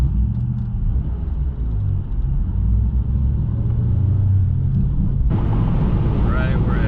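Steady low cabin drone and road rumble inside a 2015 Honda Fit cruising at 70 mph in sixth gear on a tollway, loud and continuous, with a brighter wind and tire hiss rising near the end.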